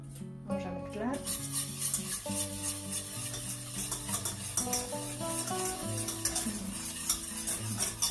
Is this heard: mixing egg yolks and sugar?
yes